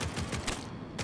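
Sustained SMG fire in the bullet-heaven game Grind Survivors, fast overlapping shots forming a continuous close rattle for about a second with no speech.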